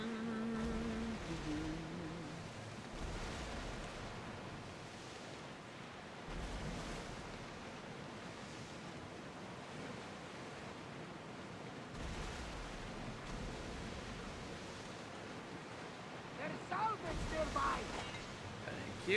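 Ocean waves in the Assassin's Creed Odyssey video game, near a massive statue of Poseidon, roll as a steady broadband surf wash that stays fairly loud throughout, with game sounds and a voice mixed in.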